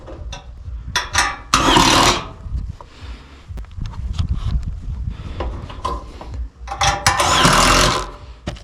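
A power driver sinks self-tapping screws into a house roof during installation, with two loud whirring bursts up close and quieter handling, scraping and knocking between them, and no voices.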